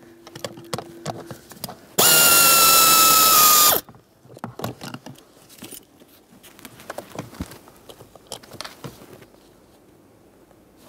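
A power tool spins out a 7mm mounting bolt on the blower motor resistor of a 2007-2013 Acura MDX in one loud, close whir, followed by scattered ratchet clicks and tool handling.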